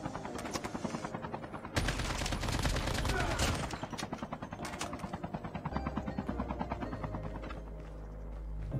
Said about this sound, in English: Okay, I hear some shots on the left.